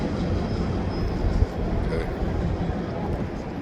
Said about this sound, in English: Train just coming back from early run there.